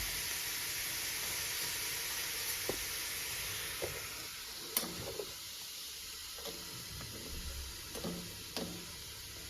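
Onions and radishes roast in a pan over a gas flame with a soft, constant sizzle and hiss, broken now and then by light stirring taps and clinks.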